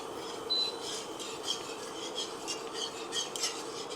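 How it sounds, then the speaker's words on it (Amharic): Flour stirred into a frying pan still coated with meatball drippings to start a sauce, a soft steady scraping with light utensil clicks throughout, close and fairly quiet, no voices. "ሳናበዛ የፉርኖ ዱቄት ከጨመርን በኋላ ቀስ ብለን እናማስለዋለን።"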